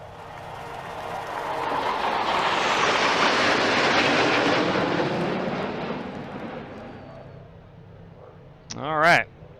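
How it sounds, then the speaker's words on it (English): Military jet flyover at a NASCAR race in Texas, a roar that swells and fades over several seconds, followed by a short burst of sound near the end. "All right, we got our flyover."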